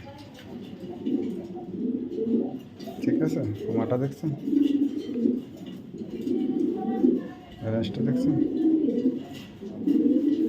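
Racing pigeons coo repeatedly in low, throaty bursts close by, while someone talks over them.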